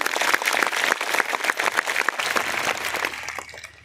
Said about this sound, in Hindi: ताली अपने लिए तो बजा दीजिए आप